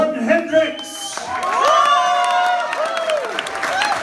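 Crowd at a weekend concert in Luxembourg clapping and cheering for the performer, a dense sustained wash with whoops, under an announcer's voice and some music.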